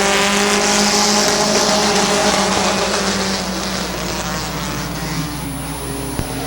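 Race cars roar past on the Midvale Speedway track in the closing laps, a loud, continuous blend of several engines that stays near and steady throughout before easing slightly toward the end.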